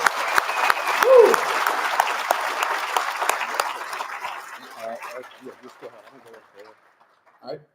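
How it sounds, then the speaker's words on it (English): Audience applause fills a hall at an awards gala and annual meeting, loud and dense at first with a few whoops, then thinning into scattered claps that fade out, with a voice briefly heard near the end. "Give them a round of applause."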